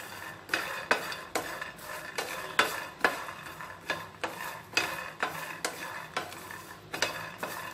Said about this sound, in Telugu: ఇలా కలుపుకుంటూ మనం ఫ్రై చేసుకోవాలి, లేకపోతే ఒకటి వేగుతుంది ఇంకొకటి వేగదు.